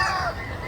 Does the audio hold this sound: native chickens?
yes